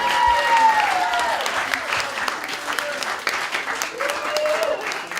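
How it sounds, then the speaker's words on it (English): Guests at a rehearsal dinner at a beach club applaud the speaker's wife, a sustained ripple of clapping from a medium-sized crowd with a few whoops and voices mixed in, fading a little toward the end. "One more round of applause for my lovely wife"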